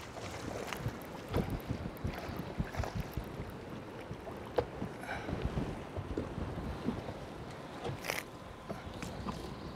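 Strong wind gusts over an Arizona lake on a summer afternoon, producing a constant rough rushing and buffeting noise with occasional louder thumps, like wind on a microphone out on open water.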